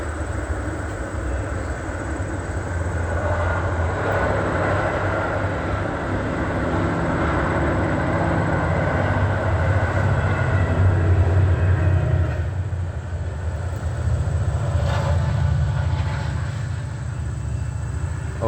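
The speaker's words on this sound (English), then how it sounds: "always let the train pass by" Train passing by with a steady, broad rumble that swells and fades slightly over almost twenty seconds, moderately loud and continuous, no voices.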